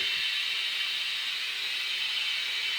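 Compressed air hisses steadily and loudly while a 225/45/17 tyre is inflated on a 17x7.5J rim for a Ford Mondeo MK4, a continuous close-up rush with no break and no talking.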